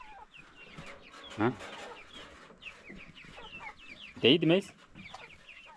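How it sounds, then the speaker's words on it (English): Chickens cluck nearby while being fed, with soft scattered clucks and two louder bursts of squawking. People talk intermittently over the birds. "My dad is here giving chicken food."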